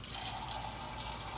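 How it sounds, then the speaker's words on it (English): Liquid poured into a pot of pork bones and cabbage, a brief soft splashing trickle, quiet and close. "put a little bit more liquid in here, not much, because I don't want a lot of liquid"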